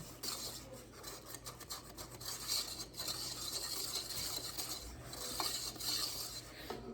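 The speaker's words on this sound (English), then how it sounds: "I like to use the rubberized whisks when I'm mixing in my saucepans" A rubberized whisk stirs a mixture in a non-stick saucepan, giving a continuous soft close scraping and swishing with a steady rhythm and no voices.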